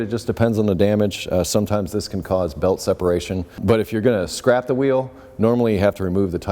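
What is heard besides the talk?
None of the usual background noises is heard.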